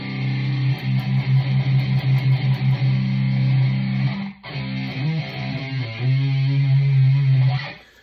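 Electric guitar driven through a Type Metal Junior distortion pedal into a Marshall Code 50 amp, playing heavy, sustained distorted chords and riffs with a brief break midway, loud and close with no talking.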